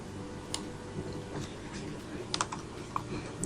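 Key clicks from typing on a computer keyboard during flyer design work, sparse and uneven taps with a few sharper strikes, fairly quiet and close over a low room hum.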